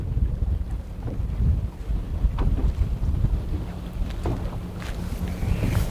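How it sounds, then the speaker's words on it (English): Strong wind buffets a fishing boat on a lake, a steady, loud low roar of gusts against the microphone that lasts the whole stretch with no talking. "Yeah, this wind is really picking up, isn't it?"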